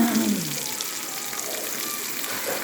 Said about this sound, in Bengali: মাছটাকে আমি এইভাবে লাল করে ভেজে নিচ্ছি।